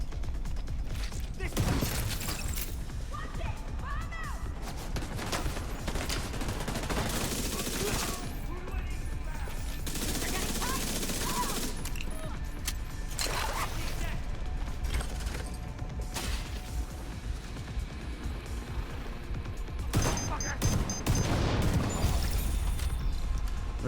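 Backfire exotic SMG fire in The Division 2, fast automatic bursts crackling repeatedly in close, loud volleys with brief pauses, mixed with other gunfire and game effects.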